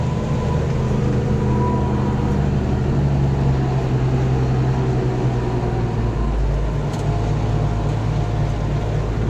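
Ford TW tractor's engine working hard while pulling a plough, a loud continuous low diesel drone with turbo whine, steady and close throughout.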